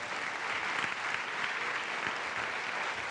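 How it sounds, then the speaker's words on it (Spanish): A church congregation in Chicago applauds together, a steady, even roar of many hands clapping at close range that fills the short moment without a break. "Un aplauso al Rey."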